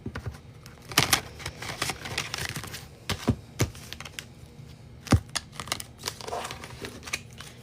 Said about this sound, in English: I almost shuffled the deck, like, so part of it was upside down.